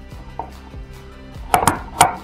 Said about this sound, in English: So cut rough chunks is what I want.